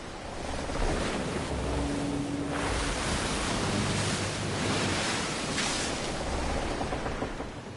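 Big ocean waves roll and surge at sea in Assassin's Creed Black Flag, a loud, steady wash of surf and wind noise that swells and ebbs throughout with no talking.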